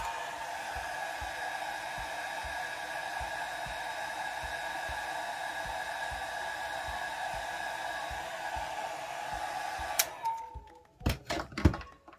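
A hair dryer blows steadily to dry alcohol ink on a flower painting, a constant close whoosh for about ten seconds before it cuts off, followed by a few handling thumps and clicks.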